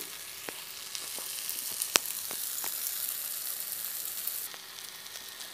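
Idlis sizzle steadily while being fried into dry masala idly in a pan, with a dense crackling hiss and a few sharp pops and ticks scattered throughout, close and fairly quiet, no voices.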